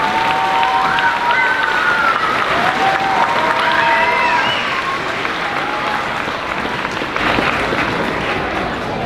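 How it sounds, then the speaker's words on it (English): An audience gives a sustained round of loud, dense applause for a 5th grade class at a school moving-up ceremony, steady clapping from many hands with a few faint whistles mixed in. "Let's give Ms. King and Mr. Williams' class another round of applause."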